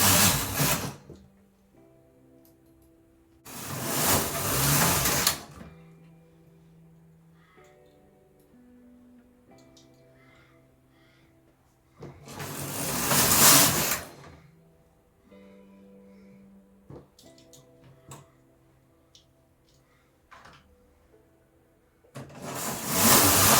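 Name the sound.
4.5mm standard knitting machine knitting headband rows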